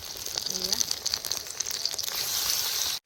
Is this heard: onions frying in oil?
yes